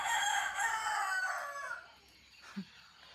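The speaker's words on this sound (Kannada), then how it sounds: "ಅಲ್ಲಿ ನೋಡಿ ನಮ್ಮನೆ ಕೋಳಿಗಳು ಆಟ ಆಡ್ತಾವೆ" A home chicken flock is heard at a distance: a faint, drawn-out rooster crow that fades, followed by a single soft low cluck.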